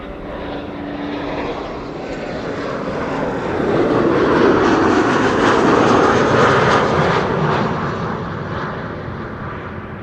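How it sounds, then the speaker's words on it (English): An Airbus A330-200 airliner arriving from Chengdu, China, passes as a broad, steady jet roar that swells to its loudest midway and then eases slightly, with no voices. "there is an A330-200 arriving from Chengdu in China"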